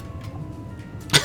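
A voice imitates a character's cough with a single short, sharp cough at the end, after a moment of quiet room tone.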